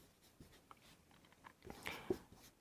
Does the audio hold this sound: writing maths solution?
yes